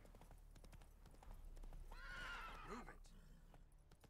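Roach the horse in The Witcher 3, with clip-clopping hoofbeats throughout and a loud whinny rising in the middle, played under faint talk.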